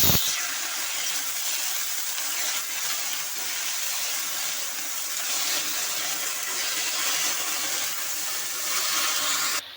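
Cut potatoes fry in hot oil, a dense, even sizzle running steadily close by for the whole stretch, with no voices over it.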